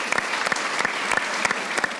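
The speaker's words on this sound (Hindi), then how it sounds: "जहीर अब्बास के लिए एक बार बहुत ही नज़ार तालियां" A studio audience at the cricket talk show Haarna Mana Hai claps for Zaheer Abbas in a steady rhythm, with regular, evenly spaced beats, several per second, over a close, continuous bed of applause.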